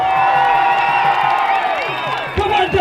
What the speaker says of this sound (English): A big massive round of applause for David Icke!